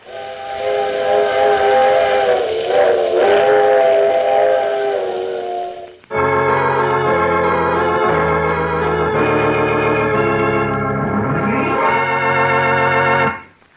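A steam train whistle blows loud and sustained as a radio drama sound effect, one long chord-like blast, a brief break, then a second long whistle that fades out at the end.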